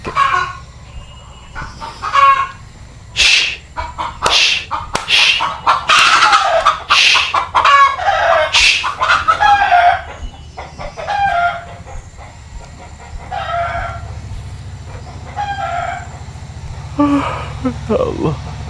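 Chickens cluck and a rooster crows close by in a rural yard, with busy bursts of calls through the first half and quieter clucking later, while people talk intermittently.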